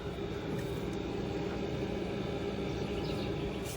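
An affordable ice chiller for a cold plunge tub runs with a steady, even mechanical hum and whir, continuous and fairly quiet, with no voices.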